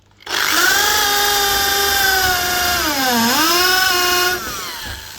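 Power drill boring a screw hole into a wooden board outdoors, a steady high whine that dips briefly in pitch as the bit bites, then tails off near the end.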